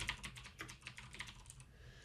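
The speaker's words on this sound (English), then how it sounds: "Select it and just begin typing." Quick, light keystrokes on a computer keyboard while a title is typed into a text shape, a steady run of close, crisp taps with no talking.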